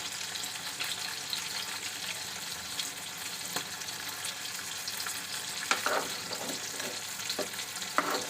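Fish frying in a pan makes a constant close sizzle, broken by occasional sharp pops and spatters, with no voices.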